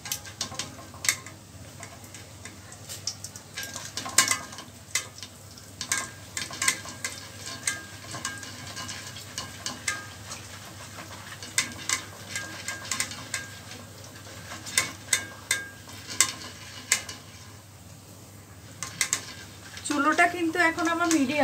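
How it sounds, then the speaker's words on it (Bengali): Flattened rice (chira) frying over medium heat in a metal strainer, with steady soft sizzling broken by repeated scraping and stirring clicks throughout. "একটু নেড়ে নেড়ে ভাজতে হবে যাতে চারপাশটা ভাজা হয়"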